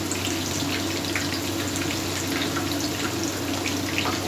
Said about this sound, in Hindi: अब मैं इन गोला कबाब को फ्राई करने लगा हूँ